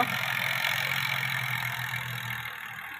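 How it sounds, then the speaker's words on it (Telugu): A steady, low tractor engine drone runs throughout, loud and close, with a constant rumble, at a site where gravel is being loaded. "ట్రాక్టర్లు అయితే వెళ్ళిపోతున్నాయి"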